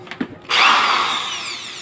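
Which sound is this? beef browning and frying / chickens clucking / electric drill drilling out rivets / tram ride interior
electric drill drilling out rivets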